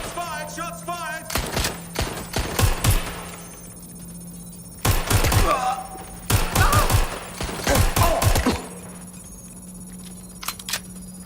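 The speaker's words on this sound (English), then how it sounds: "Got shots fired. Taking cover. I'm taking fire." Gunfire in the Watch Dogs Legion video game, coming in rapid bursts of sharp shots with short quiet gaps between volleys, close and loud over a low steady hum.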